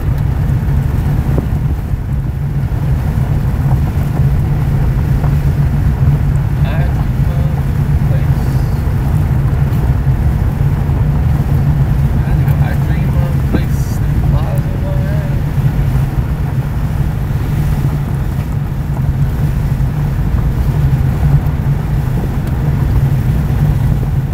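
Steady, loud wind buffeting rushing past an open car window, with low road rumble underneath throughout.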